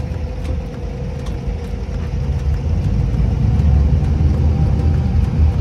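A boat's engine is thrown into reverse gear to brake while docking in Dubai's old town, a steady, close, low rumbling drone that swells slightly louder toward the end, with no talking.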